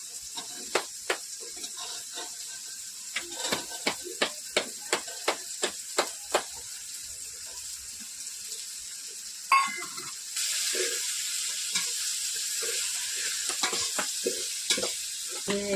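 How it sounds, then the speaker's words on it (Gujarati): Corn kernels tossed into hot oil tempering (vaghar) for a corn dish: a run of sharp spoon taps against the pan, then a burst as the kernels go in, followed by a steady, close sizzle with scattered clicks. "હવે આ વઘાર થઈ જાય એટલે મકાઈ નાખી દેવાની છે."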